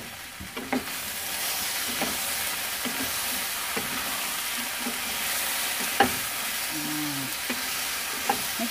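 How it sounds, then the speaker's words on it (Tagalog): Spinach, squash and eggplant are stirred in a sizzling pan, with a steady frying hiss throughout and scattered soft scrapes and knocks of the utensil, close and fairly loud, no voices. "Haluin po ulit natin."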